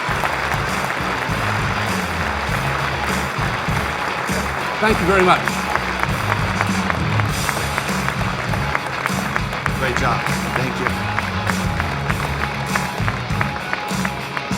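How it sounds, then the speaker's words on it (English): Sustained audience applause in a meeting hall, a dense steady wash of many hands clapping under a man thanking the crowd and praising the speaker. "Let's give him another round of applause."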